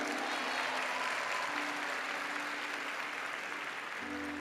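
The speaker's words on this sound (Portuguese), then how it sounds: "Vamos aplaudir o Senhor?" A congregation claps together in a church service, a steady dense wash of hands held at an even, moderate level throughout with no talking.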